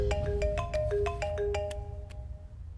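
A phone ringtone plays a quick run of bright electronic tones, then fades out over a low background rumble.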